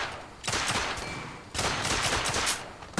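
Bursts of rapid gunfire in The Order: 1886 game, two loud sustained volleys with a short pause between, no talk.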